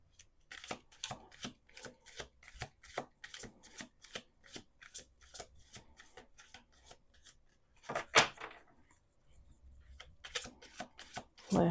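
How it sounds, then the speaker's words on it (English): A deck of playing cards is shuffled again and again in quick, crisp riffling bursts with a steady rhythm, close up, pausing briefly before a final few riffles. "We're going to do two more shuffles."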